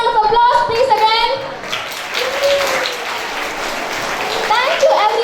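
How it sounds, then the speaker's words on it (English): Audience applause at a school World Environment Day celebration after a quiz, steady clapping from a crowd with children's voices and whistles mixed in, loud at first then settling. "A big round of applause please again."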